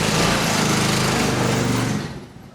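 A three-wheeled mobility scooter's small motor runs with a loud, steady buzzing drone, close by, then fades away in the last half-second as it drives off or slows.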